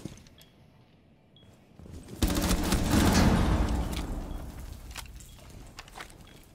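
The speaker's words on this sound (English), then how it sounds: "why are we shooting each other, guys?" Rapid video-game gunfire erupts after a quiet start, a loud sustained burst of overlapping shots that gradually thins into scattered cracks, heard alone without talk.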